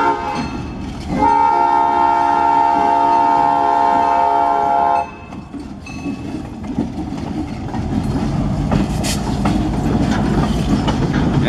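An Escanaba and Lake Superior Railroad locomotive 402 horn blares in long sustained chords for several seconds, then rumbling rail noise and clattering wheels continue as the train rolls past, on a hot, muggy day.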